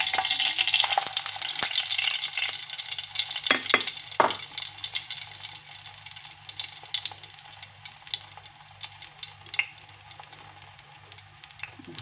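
Zucchini rolls with chicken mince sizzle and crackle in a hot frying pan at a steady level, with a few clinks of utensils early on.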